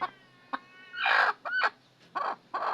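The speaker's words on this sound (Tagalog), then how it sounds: "Nagagalit yung ating manok." An angry brooding hen on a farm, guarding her eggs, lets out a few short, sharp clucks and squawks in separate bursts, fairly close and alone with no talk over it.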